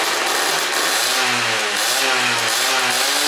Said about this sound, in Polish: Silnik jest ciepły, także mogę go przegazować śmiało,